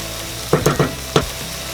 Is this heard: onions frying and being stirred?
yes